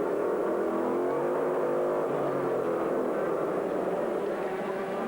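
GT class Porsches and a BMW race closely in an American Le Mans Series event, their engines blending into a continuous roaring drone at a distance with slight pitch shifts, no voices clearly standing out.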